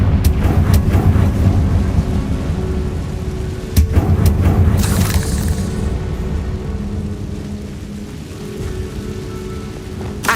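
A fiery Confringo blasting curse explodes in Hogwarts Legacy: one sharp burst bursts out of a steady rumbling bed of spell and ambient noise, then the rumble rolls on.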